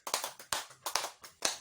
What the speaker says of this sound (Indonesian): kita tepuk tangan untuk kelompok yang Pak Beni